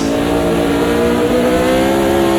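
Formula Vintage race car engine in AMS2 at Brands Hatch near Druids in wet spray, a loud, close, sustained high-revving buzz holding steady pitch without speech.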